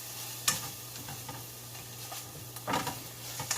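Onions frying in a hot pan with a low steady sizzle, stirred with a few sharp scrapes and clacks of the utensil against the pan at a close distance.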